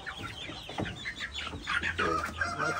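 Farm chickens cluck and squawk in quick, close, overlapping calls, with a steady low hum underneath.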